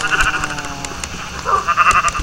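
Sheep bleating inside a blocky farming video game, a couple of clear, close bleats with a wavering tone over a steady background hum.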